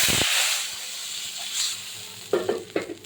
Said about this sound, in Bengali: এই কড়াইতে আমি জল দিয়ে দেবো